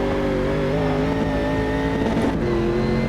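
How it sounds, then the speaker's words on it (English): The race car engine in Automobilista 2 sits at its rev limiter, a loud continuous buzzing drone with steady harmonic tones and a brief stutter in the pitch near the end. No voices are heard. "Okay, rev limiter sounds a bit weird."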